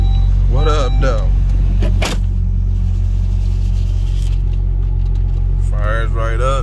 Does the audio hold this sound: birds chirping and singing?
no